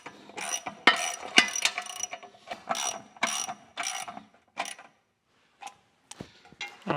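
Bolts are tightened by hand with a ratchet on a Sellers 6G drill grinder, giving quick clicking bursts of pawl rattle close by, in irregular runs with short pauses and a few isolated clicks near the end.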